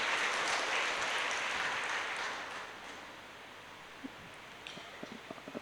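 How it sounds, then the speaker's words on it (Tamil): An audience claps at a church service, dense applause loudest at the start and fading over a few seconds to scattered individual claps at the end. "நல்லா கைத்தட்டிக்கலாம்."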